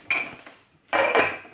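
Ikea cups and cutlery clink and rattle as they are handled, in two close, bright bursts separated by a short pause, with no talking.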